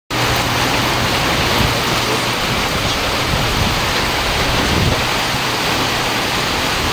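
Heavy rain pours down steadily and loudly as a dense, unbroken roar of drops, with no voices heard.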